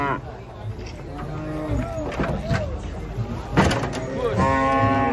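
Agitated cattle being unloaded from a truck low and moo nearby in drawn-out calls while people chat over them outdoors.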